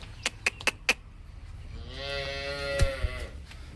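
A black-and-white HF (Holstein Friesian) cow gives one long, loud moo of about two seconds, with a few sharp knocks before it and a thud near the end.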